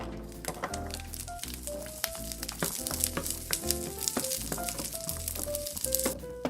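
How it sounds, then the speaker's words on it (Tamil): Garlic sautés in a pan for a spicy Tamil garlic chutney, giving a steady close sizzle and crackle. Background music plays under the cooking sound. "இப்போ இதே பேன்ல பூண்டை போட்டு வதக்கிக்கலாம்."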